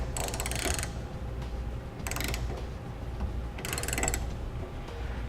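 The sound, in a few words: tightening down Thule TracRac base rail front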